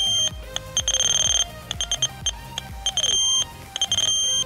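An XP MI-6 pinpointer metal detector gives a series of close, piercing electronic beeps in irregular short and long bursts, with a faint background hum.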